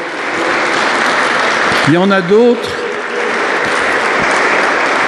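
Steady applause from a crowd in a church fills the whole stretch, with a voice briefly speaking over it midway.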